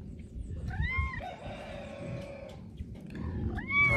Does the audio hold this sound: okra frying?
no